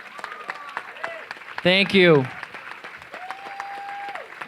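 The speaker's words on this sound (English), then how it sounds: "Can we give another big round of applause to all the speakers who are here" An audience at the APALA Convention 2013 plenary applauds the speakers, scattered claps running steadily beneath a speaker's voice and a sustained electronic tone, moderately close.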